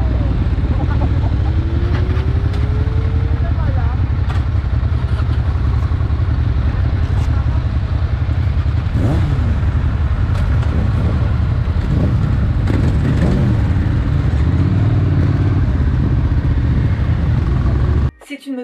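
A Ducati 750 Supersport motorcycle being ridden, with a loud, close engine drone throughout that rises and falls with throttle changes and shifts before cutting off abruptly at the end.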